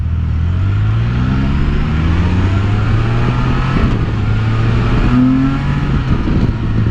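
A Can-Am Spyder F3-T three-wheeled motorcycle is ridden at speed. The engine drone is loud and steady, its pitch rising and falling through gear changes, and wind rush buffets throughout.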